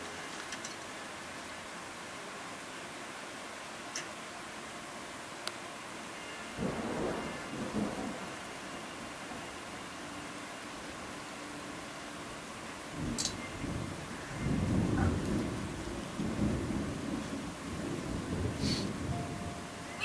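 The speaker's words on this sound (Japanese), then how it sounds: "怖いんですけど、雷さん" Thunder rumbles outside during a rainstorm, with a steady hiss of rain throughout and low rolling peaks that swell and fade twice, the second longer and stronger, heard from indoors at moderate distance.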